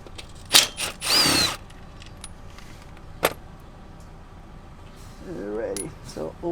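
Loose bolts come off a BMW ZF 6HP19/21 transmission oil pan with sharp metallic clinks and brief ratchet-like bursts, separated by quiet gaps, followed by a low voice speaking near the end.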